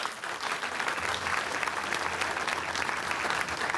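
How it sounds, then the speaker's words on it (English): Audience applause at an education summit in Istanbul for young performers leaving the stage, a dense, even roll of many hands clapping, steady throughout and fairly distant. "A big round of applause for those young talents"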